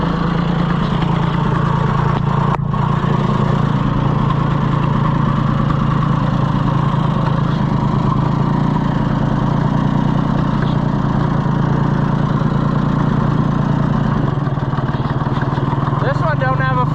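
A John Deere 1020 tractor engine idles steadily nearby, a low chugging rumble throughout, with people talking over it.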